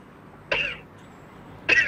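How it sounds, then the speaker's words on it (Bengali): Two sharp, forceful coughs from a patient in a doctor's examination, spaced about a second apart, close and clear against a quiet room. "জোরে কাশি দেন।"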